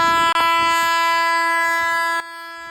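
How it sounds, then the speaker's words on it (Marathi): A train blows a loud, sustained multi-tone horn near a railway station, the blast breaking briefly at the start and then holding steady before cutting off sharply, leaving a quieter rumble. "आली रेल्वे आली गेली"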